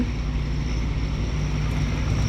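The engine of a river boat runs as a steady, continuous low drone with wind noise over the microphone and no talk.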